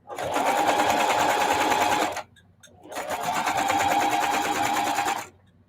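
A sewing machine runs in two steady, rapid bursts of stitching, each about two to three seconds long, separated by a short pause.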